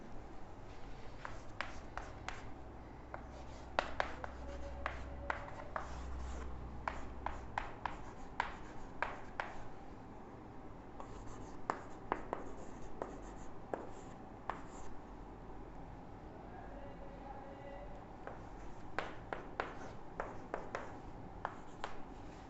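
Chalk or marker writing on a board during a maths lecture on continuity and differentiability, repeated quick taps and strokes in uneven bursts over a low room hum, no voice heard.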